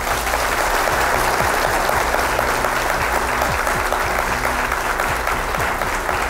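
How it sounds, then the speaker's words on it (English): A studio audience at a televised final debate gives a round of applause, loud sustained clapping with crowd noise throughout, holding an even level for about six seconds. "let's give them a round of applause."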